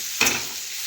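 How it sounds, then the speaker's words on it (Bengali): Food frying in a pan, a steady close hiss with one brief stirring swish near the start, heard alone without talk. "আমি একটু ভেজে নিচ্ছি।"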